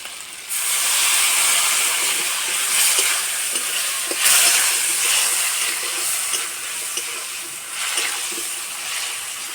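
Spice paste water is poured into a pan of bitter gourd rezala, setting off a loud, continuous sizzle and steamy hiss close by that surges a few times as the mixture is stirred.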